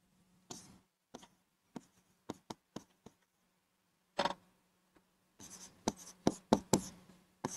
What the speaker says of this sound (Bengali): আমি একটু পাশে ইউনিয়ন লিখি